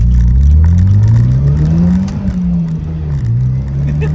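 A Pontiac Solstice turbo with a Stage 1 tune pulls hard while driving, its engine drone climbing in pitch through a gear, dipping at a shift, then rising again, loud and close with road rumble.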